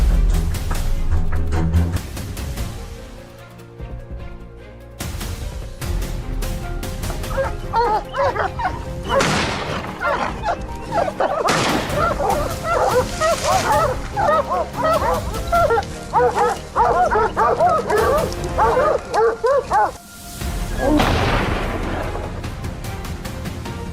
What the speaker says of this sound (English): Hunting dogs were released immediately.